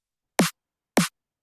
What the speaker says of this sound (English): So I have this snare here